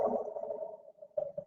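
A dog makes odd, strange noises: a sustained nasal whining moan that wavers, fades, then returns in two short pulses, heard close and fairly quiet.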